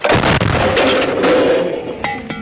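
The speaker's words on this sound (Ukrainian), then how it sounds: "Постріл!" A single heavy artillery gun blast from a combat gun crew booms sharply, followed by a rumbling echo that fades over a couple of seconds.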